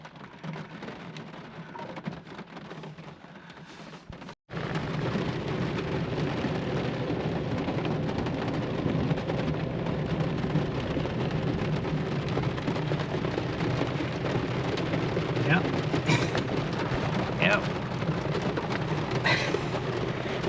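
Heavy rain pours steadily during a sudden thunderstorm over a truck tent campsite on Georgian Bay, with low rumbles of thunder rolling beneath the dense downpour after a brief dropout near the start.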